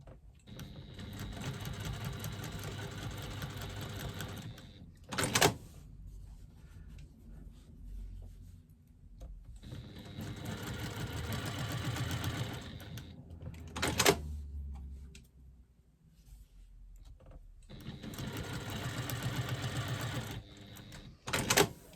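A sewing machine stitches a quilted pouch in three separate bursts of rapid mechanical whirring, each ending with a sharp clunk, with quiet handling gaps between them.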